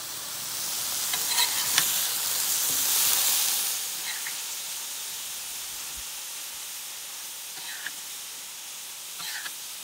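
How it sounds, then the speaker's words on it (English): Sausage and vegetables warm on an RV griddle with a soft, constant sizzling hiss and a few faint clinks of a utensil turning the food. "So we just let this simmer for a little bit on there, and I just turn it every once in a while to heat it up"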